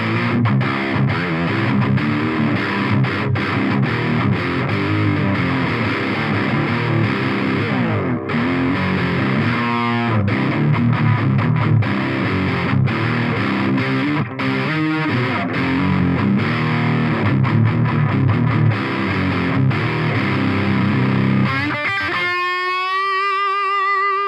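Cranked electric guitar through an Eagletone Biyang OTD 100 distortion pedal, dense sustained distorted chords and quick riffing played steadily and loud, ending on a long ringing chord with harmonic feedback.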